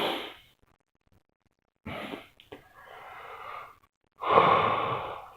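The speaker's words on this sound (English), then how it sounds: "sorry for my yawn, I am still tired" A person's early-morning yawn from tiredness: a long breathy exhale, a pause, then a drawn-out, strained inhale and voiced stretch, close and fairly loud with no talking.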